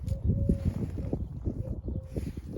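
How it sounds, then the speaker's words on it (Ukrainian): Steady rough wind buffeting the microphone, a continuous low roar with gusty swells throughout, loud and close, no clear speech. "Ой, вітер страшний задуває"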